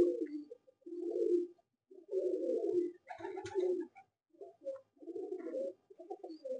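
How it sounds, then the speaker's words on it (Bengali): Malwai pigeons coo in low, soft, repeated phrases close by, with short pauses between the calls. "এই দেখুন এই একটা পায়রা"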